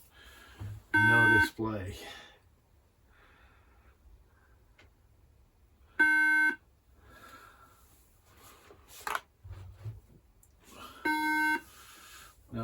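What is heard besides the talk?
2011 iMac beeping at startup without RAM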